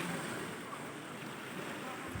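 Sea waves washing onto the shore at the seaside, a steady broad rushing surf with wind noise on the microphone, continuous and fairly loud with no talk.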